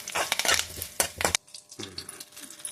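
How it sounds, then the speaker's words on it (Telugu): Loud crackling sizzle of spices hitting hot oil for a South Indian coconut and peanut chutney tempering, with clinks of a utensil against a pan, then a quieter hiss that settles into steady frying. "చూడండి, పోపు వేస్తున్నాను"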